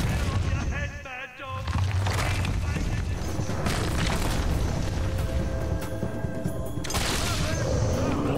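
Gunshots fired at a rock troll in the video game Fable II, booming shots and impacts layered over busy battle sounds and music, with a brief lull early on and someone talking over it.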